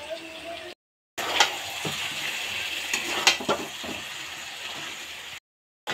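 The lid of a pot of chicken biryani is lifted, with metallic clinks and scrapes over a steady sizzle of frying. The sound cuts briefly to silence at the start and the end.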